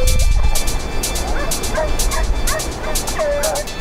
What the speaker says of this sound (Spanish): Escuchamos las primeras ladras